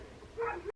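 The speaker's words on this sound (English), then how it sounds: "I apologize for my crazy dog barking his head off" A dog gives a single short bark, faint and slightly distant, with a yelping edge.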